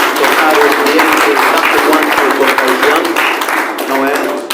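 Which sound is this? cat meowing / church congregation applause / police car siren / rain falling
church congregation applause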